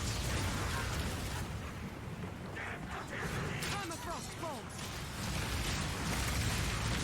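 Incendiary bolts in Path of Exile 2 burst in a dense, continuous roar of fiery explosions and crackling pops, loud and sustained, with a brief chirping effect in the middle.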